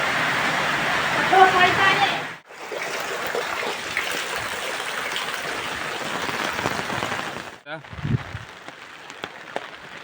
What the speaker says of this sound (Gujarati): તો ગાઈસ વરસાદ ફૂલ ચાલુ થઈ ગયો છે